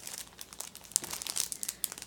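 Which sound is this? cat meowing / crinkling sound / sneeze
crinkling sound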